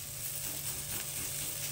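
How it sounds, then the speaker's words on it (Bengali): Bitter gourd pieces frying in a little oil in a pan until reddish, a steady close sizzle and crackle throughout, alone. "তো এবার এটাকে আমি পুরো একটু লাল লাল করে ভেজে নেবো।"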